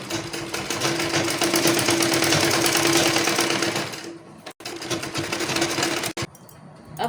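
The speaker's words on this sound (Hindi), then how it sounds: "अब इसको इस तरह से अंदर की तरफ फोल्ड करते हुए सिलाई लगा लेनी है" A sewing machine stitches the back neck of a blouse, a loud close mechanical whir running steadily for about four seconds, then pausing briefly and starting again in shorter bursts.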